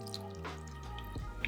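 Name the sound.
filtered water poured into a bowl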